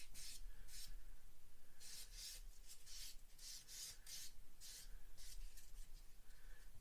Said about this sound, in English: it's just a very fine mold seam there. Sand and sponge.